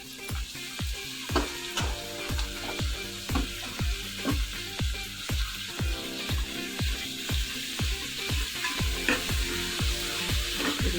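Chopped amaranth greens frying in oil sizzle steadily up close while a utensil scrapes and taps the pan in a regular, repeated stirring rhythm.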